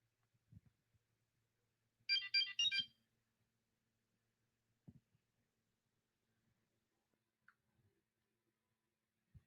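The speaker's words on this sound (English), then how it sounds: "You guys know when that Kim Possible ringtone come through, I'm getting the message." A phone ringtone, the Kim Possible theme alert, chirps once in a short loud burst of beeping tones, followed by quiet scattered clicks and taps.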